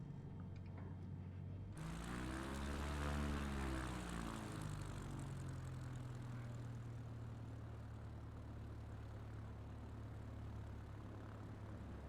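A propeller airplane engine drones through a touch and go in a flight simulator, swelling as the aircraft passes close, then settling into a steady, loud hum with no voices.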